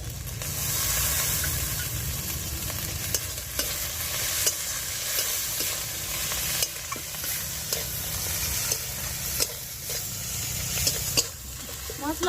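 Spice masala for a silver carp and cauliflower fish curry fries in a pan, a continuous sizzling hiss punctuated by repeated scraping strokes of a stirring spoon at close range.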